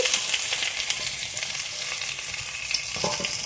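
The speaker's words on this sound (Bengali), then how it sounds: "তেল গরম হয়ে গেছে এখন আমি ফোড়নে গোটা জিরে দিয়ে দিচ্ছি পেঁয়াজ কুচি দিয়ে দিচ্ছি রসুন কুচি আদা কুচি" Whole cumin, chopped onion, garlic and ginger fry in hot oil for a Bengali village-style curry, giving a steady, close, crackling sizzle that holds throughout without any talk.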